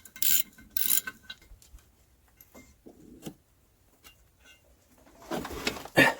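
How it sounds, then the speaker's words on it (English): Torx 40 bolts being removed from the intake plenum of a 1992 Ford F-150 truck engine, with scattered metallic clicks and ratcheting bursts, louder clusters at the start and near the end, no talking. "let me go ahead and get that Torx 40 out, and then pop the plenum off"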